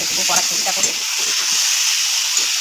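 Tilapia curry with radish and potato sizzles and hisses loudly in a pan. Steady frying noise runs throughout, with a few stirring scrapes near the start.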